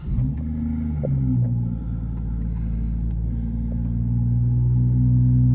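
A BMW 440i M Sport engine with M Performance sound and power pack turns over and catches, settling into a steady low idle rumble that slowly grows a little louder.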